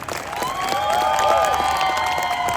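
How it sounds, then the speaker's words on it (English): A street festival audience at the Edinburgh Fringe claps and cheers around a stunt performer, steady mid-distance applause under bright tonal whistling or ringing tones that rise and fall across the short stretch. "If they clap louder, I'll give them more."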